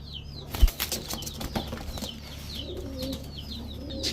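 A pair of silver, green-necked crested pigeons at a bird seller's stall beat their wings in a few quick, close bursts of flapping, with soft chirps from other birds scattered behind.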